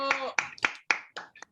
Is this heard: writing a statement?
no